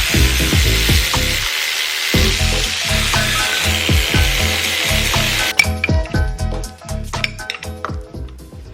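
A KA24DE engine front cover being removed during a teardown: a rapid series of sharp tool rattles and clanks over a hissing buzz of a power tool, which cuts out partway and leaves scattered metallic clicks and knocks.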